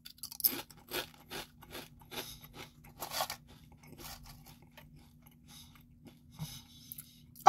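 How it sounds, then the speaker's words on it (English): Closed-mouth crunching of jalapeno kettle-cooked potato chips, a series of close, crisp crunches in uneven rhythm, loudest early on and tapering to softer chews with a final sharp crackle. "Ooh, closed mouth crunch."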